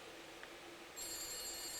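A telephone rings in the horror video game The Beast Inside, a steady electronic bell tone that starts partway through and continues alone over a faint background hum.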